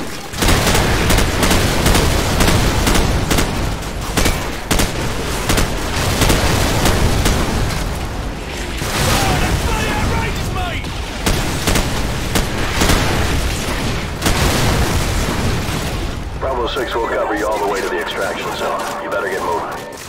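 Artillery fire-mission explosions from the video game Call of Duty 4, a dense continuous barrage of loud booms and blasts that fills the whole stretch, with battle noise and a shift in the mix near the end.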